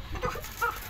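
A chicken gives a few short, soft clucks in quick succession, fairly close, against faint outdoor background noise.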